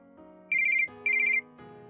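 A mobile phone ringtone signals an incoming call, a bright repeating melodic pattern that plays in two short bursts over a soft background tune.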